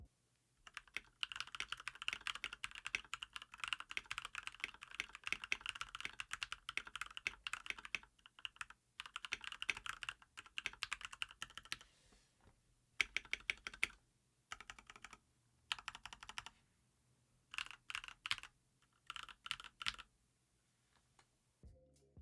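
Typing on a modded mechanical keyboard fitted with Milky Yellow switches: dense runs of crisp, close clacking keystrokes in bursts, broken by short pauses and looser scattered presses toward the end, with no voices.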